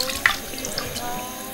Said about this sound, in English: He drags his feet towards the bathroom sink and throws some water on his face.